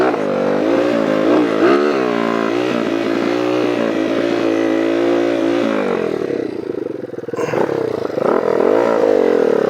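A Honda CR80 two-stroke dirt bike engine buzzes loudly and close at Lake El Reno, revving repeatedly on and off the throttle after compression braking, with an uneven, rising and falling rasp and brief dips.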